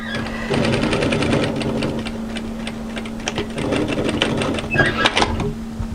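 Sewing machine running a steady line of stitching along a curved jacket seam, a fast even mechanical whirr and rapid needle ticks throughout, close up with no speech.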